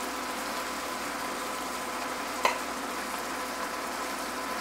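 Beef for Vietnamese shaking beef (bo luc lac) sizzles steadily in a hot wok, a constant hissing fry with one brief clink or scrape midway.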